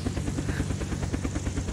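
A helicopter in the video game Unturned: steady, fast rotor thumping with a whining engine drone, loud and close, continuous throughout with no talking.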